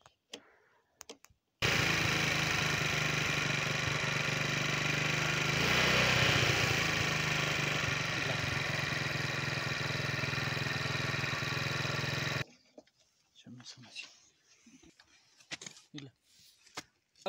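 A motorcycle engine, just repaired at home, runs at a fast, high idle: a loud, steady drone that holds for about ten seconds and then cuts off, followed by scattered clatter and faint voices.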